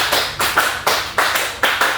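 A class of schoolchildren claps in unison in a steady rhythm, five sharp claps spaced evenly and close by.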